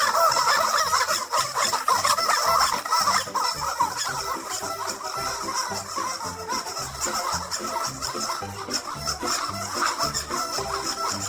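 A screaming-chicken squeaky dog toy being chewed, giving repeated shrill squawking squeaks in uneven bursts, fairly close and loud with a busy store or room in the background.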